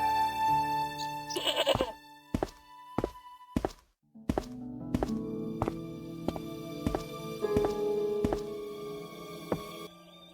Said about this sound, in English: The rope by which the goat was tethered had become tangled on the old plowshare.